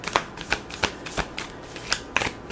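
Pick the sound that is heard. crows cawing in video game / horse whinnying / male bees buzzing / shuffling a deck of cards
shuffling a deck of cards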